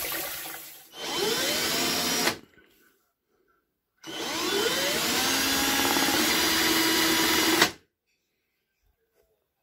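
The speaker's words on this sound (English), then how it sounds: "It's being driven by the drill just to prove that it's working." A power drill drives a homemade plant pot turbine generator in two loud bursts of steady high-pitched whirring, each about two to three seconds long with a faint rising whine, separated by silence.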